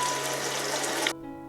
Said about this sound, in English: put hot water in a large bowl.